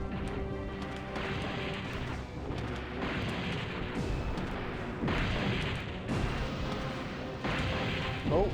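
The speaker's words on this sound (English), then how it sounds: "come on, use up those rockets" Heavy rocket launches and blasts in a Resident Evil 3 Nemesis boss fight, a run of loud booming impacts every second or so over continuous dense game noise.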